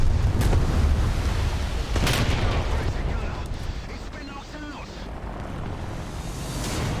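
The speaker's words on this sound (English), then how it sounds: "I'm gonna keep shooting him with the machine gun" Machine gun fire in the War Thunder video game, with rough bursts that stay dense over a constant rumbling battle din. Faint speech sits partly under the gunfire.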